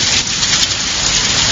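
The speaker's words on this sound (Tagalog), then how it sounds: "Ay, umulan." Heavy rain falls steadily in a dense, loud, unbroken hiss of drops striking surfaces, with no voices over it.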